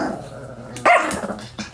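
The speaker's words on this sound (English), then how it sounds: "We have 22 dogs here." Several dogs bark and growl at a dog retirement home housing 22 dogs, including big dogs and pit bulls, during morning play; a loud close bark bursts out over a steady background of yips and noise.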